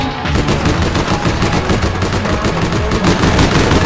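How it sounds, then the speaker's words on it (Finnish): Rapid automatic gunfire in the video game All Points Bulletin, a loud, dense burst of rifle shots firing continuously with no talk over it. "Hyppää autosta pois ja ammu sitä."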